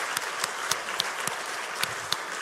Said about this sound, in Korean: 우리 자축의 박수 한번 올려드리겠습니다.